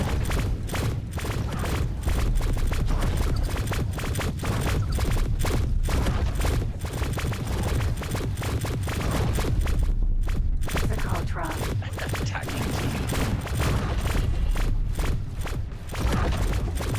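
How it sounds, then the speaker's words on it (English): Steady, dense volleys of turret gunfire rattle from a spaceship battle in the X4 space game, continuous rapid shots and thuds packed together with hardly a pause. "Oh, I want the turret that's shooting at me, that one."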